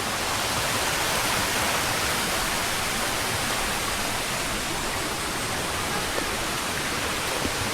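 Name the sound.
waterfall on Gunung Nuang trail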